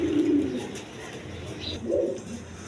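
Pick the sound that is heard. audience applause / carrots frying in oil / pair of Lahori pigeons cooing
pair of Lahori pigeons cooing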